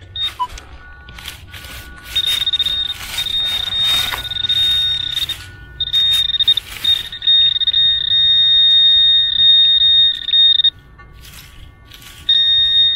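Minelab CTX 3030 metal detector emitting steady high-pitched electronic tones, several sustained beeps broken by short gaps, loud and clear over faint outdoor background.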